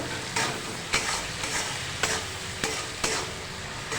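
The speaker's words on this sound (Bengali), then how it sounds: "এবার টমেটো আর পেঁয়াজটা ভালোভাবে ভেজে নিতে হবে নরম করে" Tomato and onion fry in oil for a fish curry, giving a continuous loud sizzle with regular scraping strokes of a spatula stirring the pan about every half second.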